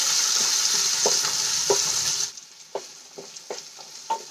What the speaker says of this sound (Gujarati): હવે બધી વસ્તુને આપણે બે મિનિટ માટે સાંતળી લેવાની છે